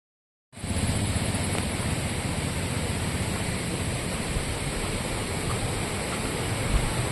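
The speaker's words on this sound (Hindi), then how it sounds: "यह एक बहुत बड़ा वाटरफॉल सामने दिख रहा है।" A very large waterfall near the Tungareshwar temple roars as a dense, steady rush of falling water, loud and unbroken after it starts abruptly, with no voices.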